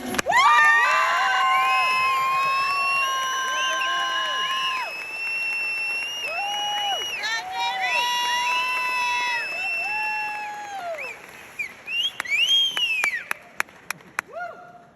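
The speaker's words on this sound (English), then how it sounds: "keep applauding them until they get to the mic" A live storytelling-show audience applauds and cheers loudly for a storyteller heading to the mic, with sustained clapping, whoops and shouts that fade into scattered claps at the end.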